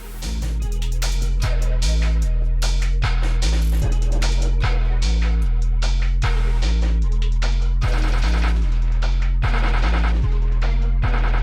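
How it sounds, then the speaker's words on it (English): Rap track transition built from a rapid series of gunshot-like bursts over a heavy, steady beat, loud and continuous throughout with dense percussive hits and no talking. "the first and second track are connected through a series of gunshots"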